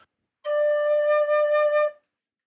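A single sustained note from a drone flute, the low note of its high side, held steadily for about a second and a half with a clear, harmonically rich tone, played solo with no talk.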